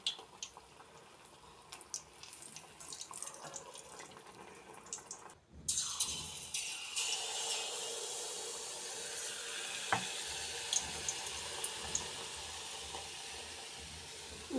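Malpua pitha frying in oil in a wok over low to medium heat, a faint continuous sizzle that grows brighter after a brief pause, with occasional small clinks.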